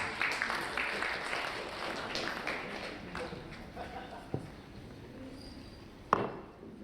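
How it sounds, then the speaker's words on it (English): An audience at a scouts' general assembly claps in a dense patter of applause. It is strongest at the start, then thins and fades, with a few isolated knocks toward the end. "Let's give a round of applause, please."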